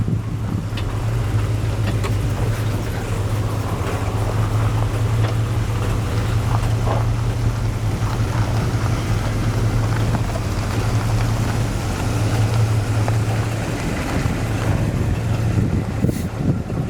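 An old Dodge truck drives up a road, a steady low engine drone with broadband road and wind rush that holds constant throughout, heard from inside the cab.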